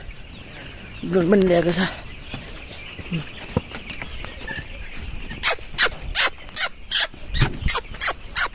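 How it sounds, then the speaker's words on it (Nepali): Chickens and chicks on a farm in Bhaktapur, with short clucks and cheeps in the background, a brief animal call early on and a run of loud rhythmic bursts toward the end, while people talk nearby. "कुखुरा कुखुरा नि चल्ला हो अहिले"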